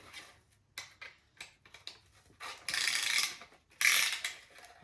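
A ratchet tightens down a part during an engine build, with a series of close, brisk clicking pulls broken by short pauses and then two longer runs of rapid ratcheting.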